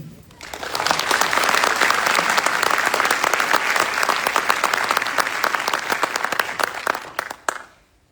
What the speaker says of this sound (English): Please join me in a round of applause for their hard work and dedication.